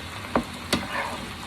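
Beef and vegetables fry in butter with a steady sizzle, broken by two sharp stirring knocks close by.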